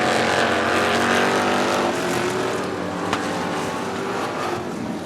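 Street stock race cars racing at Coos Bay Speedway, a loud continuous roar of several engines with shifting pitch as the cars pass close by, one brief sharp crack partway through, and no talking.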